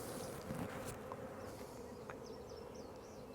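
Honeybees from a caught after-swarm buzz in a dense, steady hum close by, with a few individual bees droning past near the listener.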